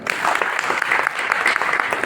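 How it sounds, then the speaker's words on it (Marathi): Audience clapping at a retirement ceremony at a government ITI in Chandrapur, a dense burst of hand claps lasting a couple of seconds, close and steady. "टाळ्या"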